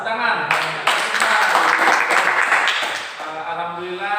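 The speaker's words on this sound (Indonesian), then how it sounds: "Luar biasa, tepuk tangan." Schoolchildren in a class break into a burst of applause after a lesson on the dangers of smoking. Dense clapping swells for a few seconds between stretches of an adult voice.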